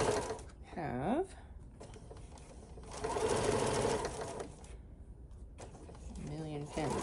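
A sewing machine stitches the seams of a fitted fabric face mask in short bursts of steady mechanical whirring, close up, with a person talking between runs.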